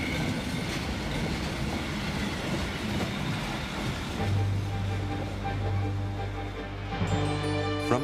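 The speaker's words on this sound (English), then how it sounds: "It is perhaps the most celebrated train on Earth." Orient Express train rolling steadily along the rails, a continuous loud rumble of wheels with a low droning hum building in the second half and faint clatter near the end.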